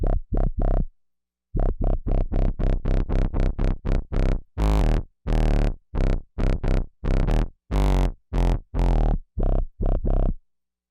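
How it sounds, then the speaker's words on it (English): Novation Bass Station synthesizer with gritty post-filter distortion: a fast, evenly pulsed run of short, heavy, buzzy notes, some opening bright and harsh, loud and alone with brief gaps. "the post-filter distortion is very gritty and allows you to get some heavy sounds"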